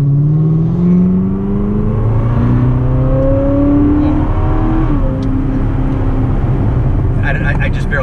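A 2019 Corvette ZR1 accelerates hard, its engine note climbing in rising sweeps through several gear changes, loud and close from inside the car, with people talking over it.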